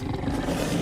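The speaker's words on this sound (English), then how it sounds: "I immediately hear like 30 growls, and I've just got 2 dogs trying to kill me." Dogs growling in a video game, a low continuous rumbling snarl heard up close for under a second with no talk over it.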